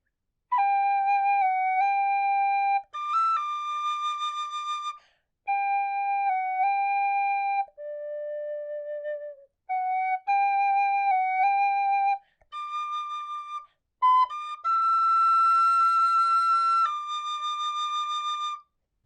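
Tin whistle plays the Braveheart theme melody, clear sustained notes in separate phrases with brief pauses and some higher octave passages, solo and close.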